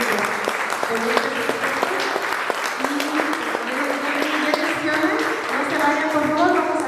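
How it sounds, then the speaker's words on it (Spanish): Audience applause before a documentary screening, steady clapping with sharp individual claps standing out, while voices murmur and talk underneath throughout. "Por favor, un aplauso, por favor, para todos"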